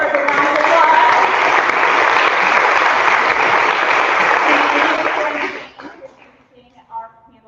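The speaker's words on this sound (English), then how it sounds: "Everyone give her a big round of applause." Dense audience applause for the first vice chair, Amy Swigert, at a political panel event, steady and loud for about five seconds before fading out, with faint voices afterward.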